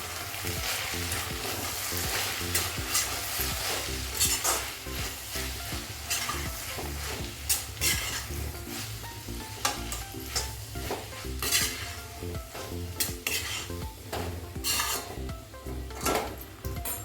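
Red sauce pasta with tomato ketchup is stirred in a frying pan, giving a continuous scraping and clattering of a spoon against the pan over a constant sizzle, with no talking.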